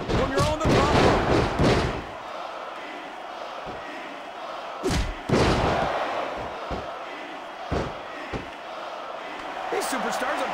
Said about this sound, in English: These superstars are beating the heck out of each other, and this crowd can't get enough of it.